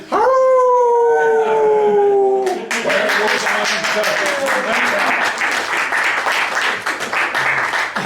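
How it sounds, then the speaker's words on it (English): Audience applause for Banjo Bear breaks out after a sustained, wavering howl-like tone fades, then carries on as steady, dense clapping that stays loud to the end. "Now give him a round of applause."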